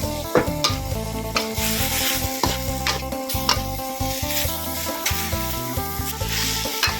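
Mushrooms stir-fried in a pan with no added water, sizzling loudly and steadily while a utensil scrapes and clacks against the pan in irregular strokes, no voices.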